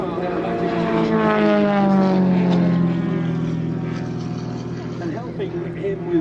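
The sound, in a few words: large-scale model aircraft flying aerobatics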